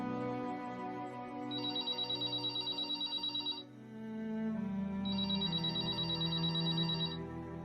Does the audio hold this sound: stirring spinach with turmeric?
no